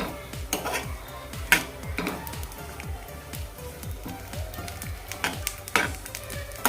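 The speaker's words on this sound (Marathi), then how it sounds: "सुकं खोबरंही हे आपण व्यवस्थित असं खरपूस असं भाजून घ्यायचं आहे गुलाबी होईपर्यंत हे भाजायचं आहे आपल्याला" Dry coconut roasting in a pan while being stirred, with repeated close scraping strokes and clinks of a spatula against metal in a steady, uneven rhythm.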